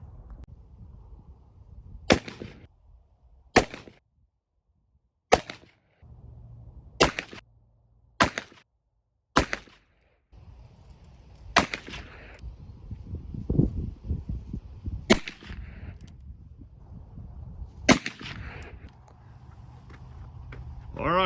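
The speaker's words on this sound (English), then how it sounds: "So I'm gonna go ahead and get started shooting." .44 Magnum revolver with 240 gr XTP loads fired at a range, heard as about nine sharp, loud single shots spaced a second or more apart, with faint background sound and brief low talk between some shots.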